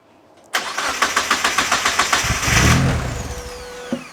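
A Mazda RX-5 turbo project car on a jump pack cranks with a rapid, even rhythmic churning for a couple of seconds, then catches and fires into a loud, swelling rev before settling, close and alone without talk.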